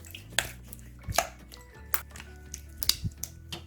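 Light irregular clattering and scraping of potatoes being tossed with seasoning and lemon juice in a bowl, several soft knocks over a low steady hum, close by.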